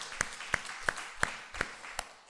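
A church congregation at a year-end Sunday service gives a brief, sparse clap, six separate hand claps spaced evenly and fairly faint, with no voices over them.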